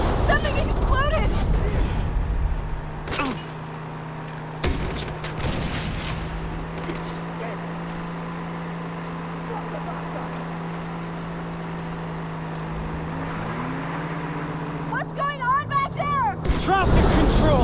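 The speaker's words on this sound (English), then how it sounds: "Did you see that explosion?" Explosions and gunfire in the Far Cry 3 video game, with a loud blast at the start, scattered bangs, a steady engine hum through the middle and a burst of shots near the end, while people talk over it.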